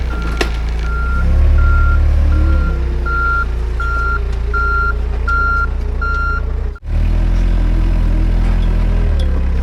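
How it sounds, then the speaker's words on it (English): A forklift's reversing alarm beeps in an even series of about eight tones over a loud, rumbling engine as it pulls a machine in on a cable, then the beeping stops and the engine keeps running. "So we'll tie the forklift on it, put tension on the cable, and pull her in."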